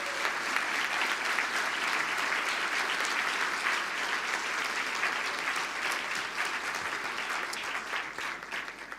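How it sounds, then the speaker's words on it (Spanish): Church congregation applauding the Lord at the end of a sermon, broad sustained clapping from a large crowd, moderately loud and even, slowly thinning toward the close. "Demos un aplauso al Señor."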